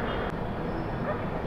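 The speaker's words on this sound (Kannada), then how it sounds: "Memo train crossing." A MEMU train rushes past at Krishnarajapuram railway station, a dense, loud, continuous rumble and rattle heard close by for a short stretch.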